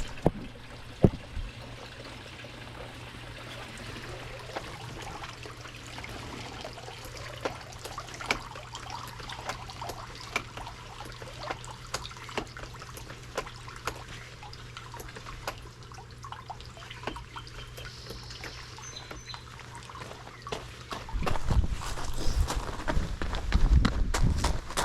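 Water runs steadily from a hose while a Laguna Pressure-Flo pond filter is back flushed, a continuous trickling flow that swells louder and splashier near the end.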